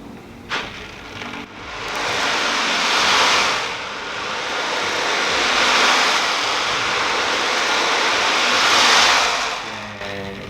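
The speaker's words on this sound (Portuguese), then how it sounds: "Dá esse som, né, que lembra chuva, remete ao mar, ao oceano, por isso o tambor oceânico" Ocean drum rolled and tilted so its beads wash back and forth, making a continuous hissing surge like rain and breaking surf that swells and eases in slow waves, close and alone.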